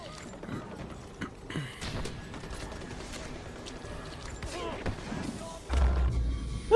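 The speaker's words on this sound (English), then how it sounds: "Random explosion out of nowhere takes my whole what life" A sudden explosion in the video game Far Cry 4 lands as a deep, heavy boom near the end, rising out of a busy bed of clattering in-game action and scattered voice sounds.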